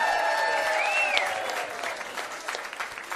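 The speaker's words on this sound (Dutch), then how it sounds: "Mag nog één keer een applaus van de fanclub en van iedereen natuurlijk." An audience applauds after a live music performance by a Dutch duo on a music show, steady clapping throughout under a sustained musical tone and a faint voice.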